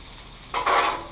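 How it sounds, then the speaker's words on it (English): A bun set down on a hot Blackstone griddle while making Philly cheesesteaks, letting out a short, close sizzle that swells suddenly after a quiet start. "Just throw that thing right there on the grill. Let it get toasted up."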